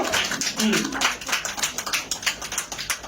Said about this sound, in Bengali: সবাই জোরে করে তালি দিব